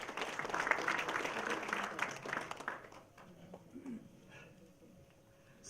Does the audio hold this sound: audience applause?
yes